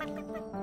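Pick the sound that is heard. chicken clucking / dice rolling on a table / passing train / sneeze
chicken clucking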